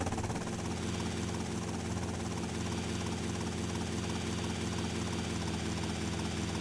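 Helicopter in Grand Theft Auto: Vice City flying near an airport runway building roof, a steady loud rotor and engine drone that runs unbroken throughout with no voices.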